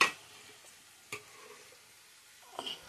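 Khichuri stirred in a pan with mustard oil, five-spice seeds and dried red chillies gives a quiet sizzle, with a couple of sharp scrape-and-clink sounds from the spoon against the pot.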